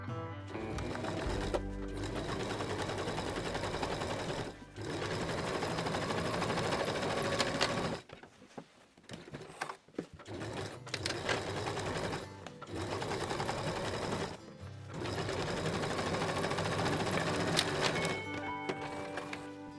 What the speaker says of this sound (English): Now, we stitch the side seams of the tote bag, making sure to perfectly align the seams where the bottom meets the main body.